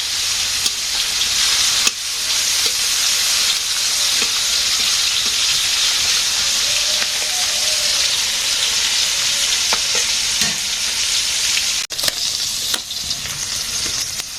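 Fish frying in a pan in a village kitchen, a loud, steady, close sizzle that never lets up, with a few faint clinks of the utensils.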